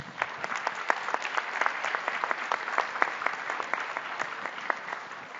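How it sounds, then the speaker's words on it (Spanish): A conference audience at a Mexican foreign trade forum applauds, with distinct individual claps standing out in a moderate, continuous round lasting several seconds and no talking. "Si les damos un aplauso,"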